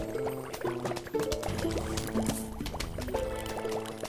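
Bubbling, gurgling potion-like effects from fume-shroom plants in the Plants vs Zombies video game repeat in short bursts over soft background music, faint and with no talking.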